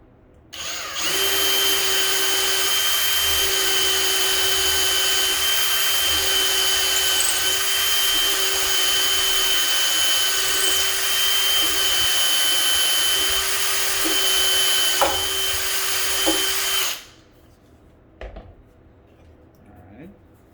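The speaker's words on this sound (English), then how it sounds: "We're going to first drill this hole." Inexpensive power drill boring a handle hole through a kitchen drawer front with a steady, loud high-pitched whine for about sixteen seconds, then stopping abruptly, followed by faint clunks.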